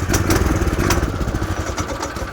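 A small stock mini bike engine runs cold on half choke, a loud, steady, rough putter with uneven pulses close by, lumpy as if struggling to settle.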